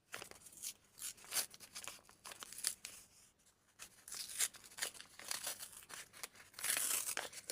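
Scissors cut through a broken perforation on a paper sheet of jean decorations, giving repeated close rustling snips and crinkles in uneven bursts with short pauses.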